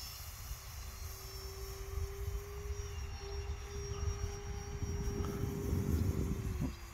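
An E-flite Turbo Timber Evolution RC airplane flies overhead, its steady electric motor whine holding a constant pitch and swelling slightly louder as it passes nearer, with broad wind noise underneath throughout.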